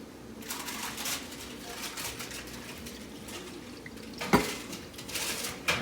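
Lentils being washed with water in a pot or bowl, with soft swishing, trickling water and occasional clinks of a spoon or dish against the container, close and fairly quiet.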